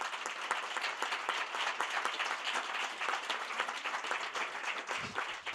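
Sustained audience applause honoring a painters' trainer at a 25th-anniversary gathering of a European painters' worksite and training organization, dense steady clapping from a full room that holds level for several seconds before thinning out at the end.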